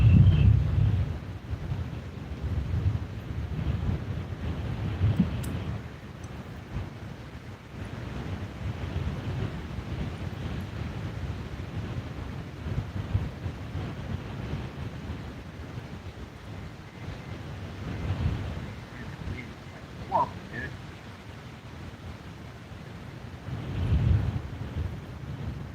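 Steady wind buffeting the microphone at a lakeside fishing spot on a bank where a tornado felled trees, a continuous low rumbling roar that swells and eases throughout with no voices.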